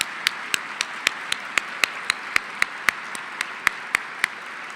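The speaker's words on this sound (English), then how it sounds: "Please give a round of applause to all these wonderful communities and organizations." An audience applauds at an anniversary luncheon with steady, evenly spaced claps, fairly close and moderately loud, and no talk over it.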